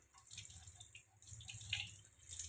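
Faint running water trickles and drips as hair dye powder is rinsed from a hand, a soft, close splash over a low steady hiss.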